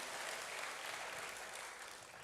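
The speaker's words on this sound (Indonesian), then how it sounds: "Berikan sekali lagi tepuk tangan bagi Tuhan." A church congregation claps for a few seconds, a dense, steady wash of applause heard alone, fading slightly.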